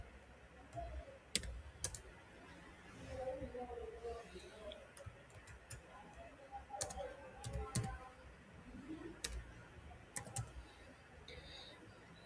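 Someone typing code on a computer keyboard while setting up an Arduino Uno, irregular bursts of close key clicks with sharper louder taps, under quiet intermittent talk.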